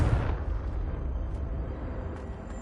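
A Confringo spell explodes in Hogwarts Legacy with a loud low boom at the start that fades into a rumbling tail, followed by a few faint, brief high crackles.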